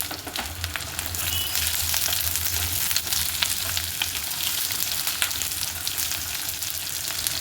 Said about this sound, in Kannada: ಈಗ ಈರುಳ್ಳಿ ಉದ್ದುದ್ದ ಹಚ್ಚಿಟ್ಕೊಂಡಿರೋ ಒಂದು ಈರುಳ್ಳಿನ ಹಾಕ್ತಾಯಿದ್ದೀನಿ